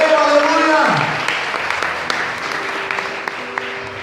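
Church congregation applauding together in a steady wash of clapping, with a voice speaking over it at the start and fainter talk as it continues.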